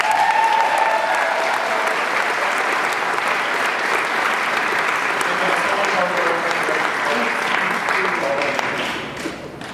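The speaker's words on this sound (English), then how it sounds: "So if we could all have a round of applause" Wedding guests give a loud round of applause during the toasts, dense sustained clapping with some crowd voices mixed in, tapering off in the last second.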